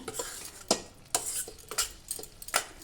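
A spoon stirs ridge gourd curry in a cooking pan, giving soft scraping sweeps and several sharp metallic clinks against the pan at irregular intervals, faint and close.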